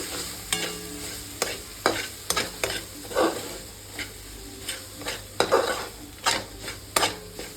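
Ground spices with coriander and chili powder fry in a pan for a moong dal curry, a steady sizzle broken by sharp rhythmic scrapes and clinks of a spoon stirring against the pan, close and fairly loud.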